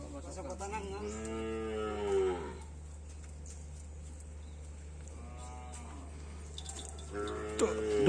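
Cattle at a Madurese karapan sapi bull race on Sapudi Island low in long, drawn-out moos, one after another, over a steady background hum, with a sharper closing call.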